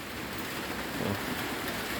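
Rain pours steadily outdoors at Phalanxay in Laos, a dense continuous hiss of drops on surfaces with a faint low rumble beneath, no talking.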